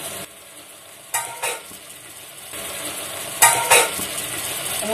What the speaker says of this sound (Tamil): நல்லா இந்த கத்திரிக்காய் வதங்குற ஸ்டேஜ் வந்து வதக்கிக்கணும்.